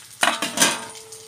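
Bora fritters frying in a pan, with a few quick metallic clatters from stirring and turning them over a faint sizzle, followed by a thin steady tone.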